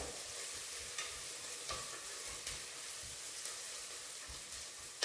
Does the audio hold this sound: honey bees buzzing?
no